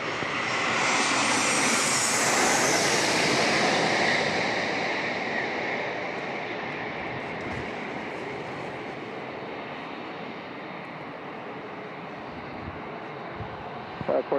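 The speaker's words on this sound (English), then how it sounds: "Here comes another Southwest 737 landing on runway" A Southwest Boeing 737 lands on runway 27 at San Diego International Airport, its loud jet roar peaking early as it passes close and then fading into a long, steady rumble.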